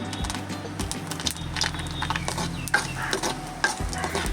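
Garlic, ginger and cashews, with fennel and cumin seeds, frying in sesame oil for a Jaffna-style dates chutney, giving a steady close sizzle broken by stirring scrapes and a few sharp clinks of a utensil.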